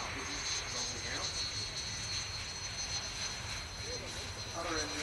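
Jet aircraft of an air display team idle and taxi on a runway at an air show, a steady distant engine whine with a high tonal hum, fairly faint, with voices faintly audible.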